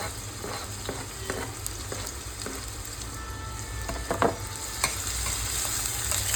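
Four or five onions fry in a pan as the base for a spicy mutton curry: a steady, close sizzle broken by occasional scraping stirs, with no voices.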